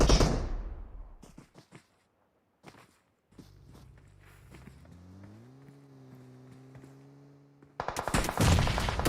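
Scattered sharp gunshots from PUBG, played in a Winter Festival esports match on a ridge with vehicles, crack out in short bursts at a distance, followed by a steady low vehicle engine hum and a dense closing volley.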